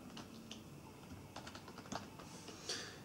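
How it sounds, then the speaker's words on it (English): Quiet typing on a computer keyboard, irregular keystrokes tapping close by for a few seconds with no talk over them. "then we could type in hello, my name is John."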